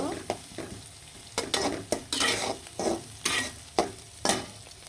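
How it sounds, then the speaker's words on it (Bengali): Chopped onions, bay leaf, cardamom and garam masala frying in oil for a beef curry, a steady sizzle broken by about eight sharp scraping stirs of a spoon against the pan, close and fairly loud. "এখানে আমি তেল বসাই দিলাম বসানোর পর কুচি কুচি করা পেঁয়াজগুলো এখন দিয়ে দিলাম"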